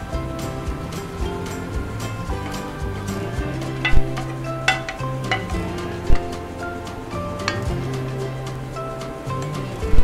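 A pot boils on a kitchen stove while Kapampangan morcon is being prepared, giving a continuous bubbling, simmering wash with a few light clinks and knocks scattered throughout.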